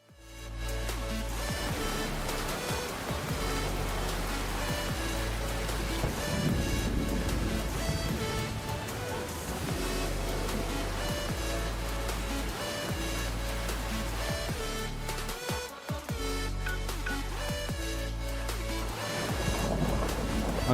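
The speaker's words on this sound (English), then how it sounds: "I wish the rain would stop, because the rain is tanking my FPS." Dense, continuous rainfall in the video game location Diamond City, a loud, steady wash of falling water under a layered game soundscape, with no let-up throughout.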